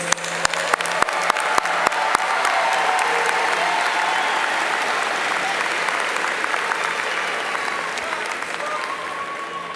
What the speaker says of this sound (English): Please join me in one more round of applause for these graduates.